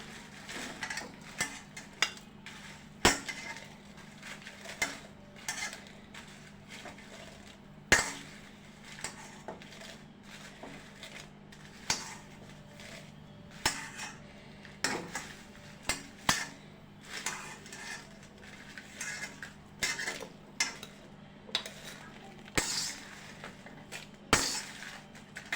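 Red chillies roasting and being stirred in a pan for guntur karam podi: irregular dry crackles, pops and scraping clinks of a spatula on metal, close and moderately loud throughout.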